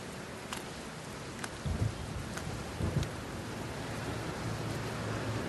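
Steady, dense video game rain hisses throughout, with a couple of low thunder rumbles rolling underneath.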